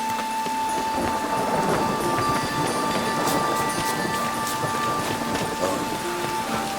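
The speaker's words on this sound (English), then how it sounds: "The storm, damn it." Steady rain and a rolling thunderstorm in The Witcher 3 game, a dense continuous wash of downpour with low rumbling throughout and no voices.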